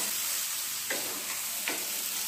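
Soya chunks frying in oil in a pan for a soya curry, a steady hiss of sizzling with two soft scrapes of stirring, close and alone without talk.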